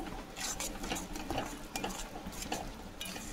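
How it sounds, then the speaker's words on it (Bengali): A spoon stirs grated coconut into palm fruit pulp in a bowl, a quiet, close, irregular scraping and squelching with soft taps against the bowl. "নারকেল কোড়ানোটাকেও তালের পাল্পের সঙ্গে খুব ভালোভাবে মিশিয়ে নেব"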